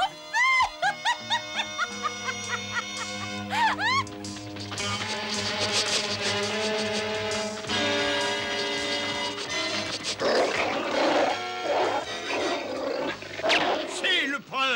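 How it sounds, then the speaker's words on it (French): A cartoon dog barks in a quick run of sharp yelps, then a dramatic orchestral score and voices take over, with animated shouting and roaring effects piled on top. "Le chien a flairé sa trace!"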